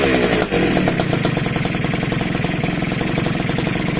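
A Pantra motorcycle engine idles high and steady with its carburetor out of tune, a loud, continuous rapid putter with a brief dip near the start and no voices.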